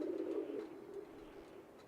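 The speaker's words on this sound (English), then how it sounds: "this one sounds like it's a bird of some sort, like maybe a dove?" A single soft dove coo sounds from the GTA V game world, a faint, low, hollow call trailing off over about a second and heard alone.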